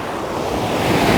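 A waterfall seen up close pours in a dense, steady roar of rushing water that is loud and continuous, with a windy hiss mixed in.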